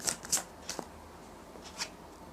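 Tarot cards are shuffled and handled close by, with soft, crisp card flicks and riffles over a quiet, steady room hum.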